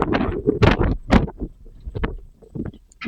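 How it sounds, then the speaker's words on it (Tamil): Strong hot wind sweeps across a farm, buffeting the microphone in uneven, rumbling gusts that rise and fall over a few seconds with no speech. "வெப்பநிலையை விட வெப்ப காற்று அதிகமா இருக்கு."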